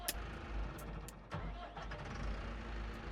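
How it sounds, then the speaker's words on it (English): A tractor engine in Farming Simulator 25 sputters and cuts out with uneven chugging and a few sharp clanks, heard fairly quietly amid low rumbling. "tractor conked out on me."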